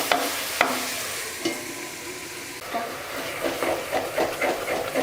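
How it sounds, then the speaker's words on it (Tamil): Tomato and onion cooking together in a pan for a green gram and egg curry, low steady sizzling with occasional clinks and stirring scrapes growing busier toward the end, no one talking. "இப்போ இந்த தக்காளி வெங்காயம் இது ரெண்டுத்தையும் வந்து மறுபடியும் வந்து நான் நல்லா வேக விட போகிறேன்."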